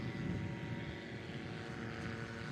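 A STOL airplane at full throttle during takeoff practice in the Rocky Mountains gives a steady, droning propeller engine roar, fairly distant and constant throughout.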